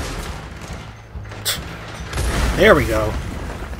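Gunfire and a blast in the Red Dead Redemption 2 video game, a sharp shot followed by a rumbling burst, mixed under a man's speech.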